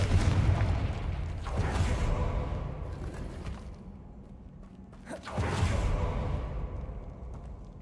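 Confringo blasting spells are cast in the video game Hogwarts Legacy: two loud, rumbling whooshing booms, one at the start and another about five seconds later, each fading into a low roar.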